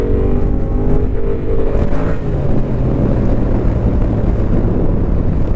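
A Yamaha Tracer 700 motorcycle engine runs steadily and close as the rider shifts into third gear, with its low, even drone and shifting harmonics holding loud throughout with no talk.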